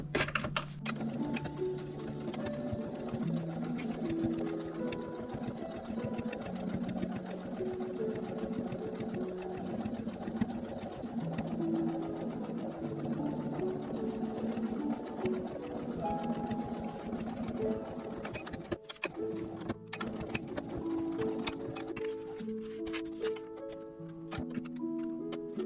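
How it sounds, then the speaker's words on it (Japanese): A sewing machine stitches the side seams of a fabric bag, running close and steadily with a fast mechanical patter and a hum, briefly pausing before starting up again. "脇を縫っていきます。"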